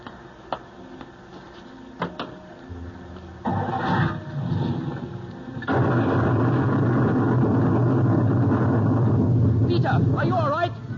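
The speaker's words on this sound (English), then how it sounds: "Just as we left the coach, sir, a bolt of lightning struck." Thunder from a lightning bolt, staged as a radio drama sound effect: a sharp crack and then a heavy, loud low rumble that swells and rolls on steadily to the end.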